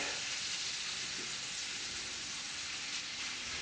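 Onions drop into a hot pan and sizzle steadily, a loud continuous hiss and crackle of frying with no break and no voices.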